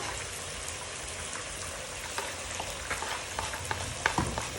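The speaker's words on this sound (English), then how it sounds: "So for the coriander, don't let it cook, just stir." Fresh coriander is stirred into a simmering fish stew with tomatoes: a dense, continuous crackling sizzle with scraping stirs that grow busier toward the end.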